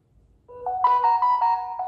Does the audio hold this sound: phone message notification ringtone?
yes